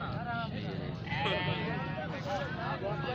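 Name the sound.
goat bleating at Ludhan livestock market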